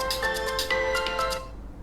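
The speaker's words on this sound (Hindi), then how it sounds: "मैं इस मोबाइल का स्पीकर आपको चेक करवा देता हूँ।" A Tecno Pova 2 phone speaker plays a short melodic ringtone, a bright repeating series of tones that stops abruptly, heard alone and at moderate volume.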